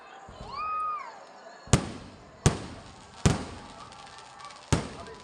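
Fan shot fireworks go off outdoors: a rising whistle first, then four sharp, loud bangs at roughly even intervals, each trailing off in a crackling echo.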